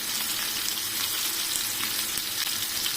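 Ingredients for chicken biryani fry in hot oil until they turn red. A loud, dense, unbroken sizzle fills the whole stretch with no voices.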